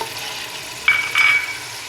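Ginger and garlic frying in a pan, giving a steady soft sizzle with a couple of brief louder bursts of hissing as the pan is stirred, with no talking.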